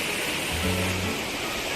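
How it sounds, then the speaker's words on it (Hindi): A waterfall drops from a great height on a mountain road trip, a steady, loud, broadband rush of falling water with a brief low murmur underneath. "बहुत ही ऊंचाई से ये झरना बह रहा है"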